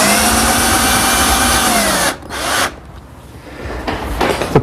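A power drill driving screws to fasten a hinge to a wooden laundry-center door in a woodworking shop: a loud, steady whine for about two seconds, a short second burst, then quieter handling noises.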